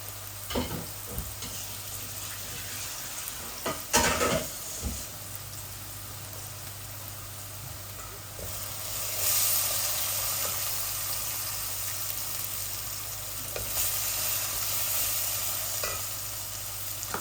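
Rice fries with onion in a pan for Sylheti-style fried rice, a steady close sizzle with intermittent scraping and stirring strokes, growing a little louder toward the middle and continuing without speech.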